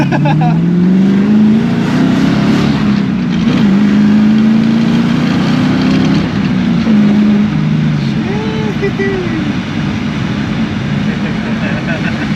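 A 1988 BMW E30 swapped with a Foxbody V8 engine revs loudly and close by. Its deep rumble rises and falls through several sustained pulls over about twelve seconds, with voices partly audible beneath it.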